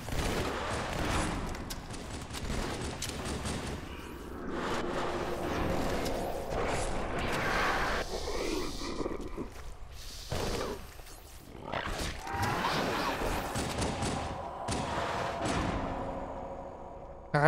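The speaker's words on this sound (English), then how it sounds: "Arbiter dual wielding SMGs." Arbiter dual-wielding SMGs in Halo 2 Anniversary on PC, with bursts of rapid automatic fire and mechanical clatter over game sounds, moderately loud with gaps between bursts.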